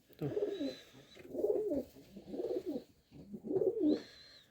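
Pigeons in a loft give repeated throaty coos, four rolling phrases in a steady rhythm, close by and moderately loud, with a faint high tone above them.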